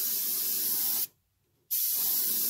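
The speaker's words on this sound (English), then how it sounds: "when you first start seeing the paint coming out of the airbrush" Airbrush spraying solvent-based Model Master paint for weathering a model freight car, a steady close hiss in two bursts with a short silent break between them.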